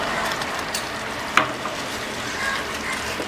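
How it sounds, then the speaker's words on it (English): Pizza sauce with seasoning frying hard over a high flame, a steady close sizzle with soft stirring scrapes and one brief clink partway through. "give it a good stir"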